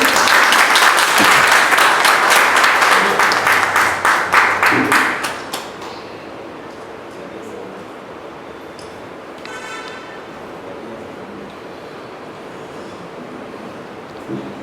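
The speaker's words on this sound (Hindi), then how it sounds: "तालियों की गड़गड़ाहट गूंजनी चाहिए" A large audience at a book launch claps loudly and steadily for about five seconds, then the applause fades into quiet room murmur.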